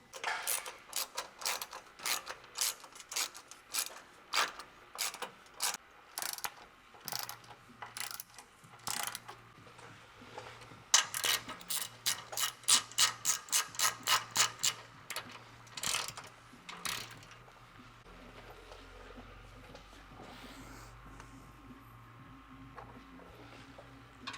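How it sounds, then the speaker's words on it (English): Hand ratchet tightening 12mm bolts on a catalytic converter security shield under a raised California-spec Toyota Tacoma: rapid bursts of close, crisp clicking in uneven runs, with quieter handling noise and a low hum near the end. "So we got the security hardware tightened up. We have these 12mm bolts tightened up."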